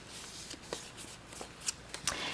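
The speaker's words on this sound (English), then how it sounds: "you're going to cut a piece at 2 by 11. Okay, and then you're just going to go ahead and fold this in half" A piece of paper card cut to 2 by 11 is folded in half for a pop-up card, giving soft, close rustles and a few crisp creasing taps over a faint hiss, with no talking.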